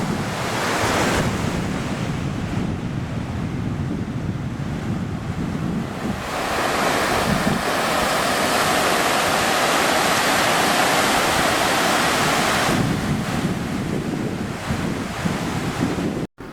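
Ocean waves along the Christchurch coast of New Zealand roar steadily as continuous surf, with gusting wind buffeting the microphone and swells rising and falling throughout.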